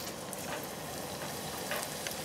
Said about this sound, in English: I'll start frying.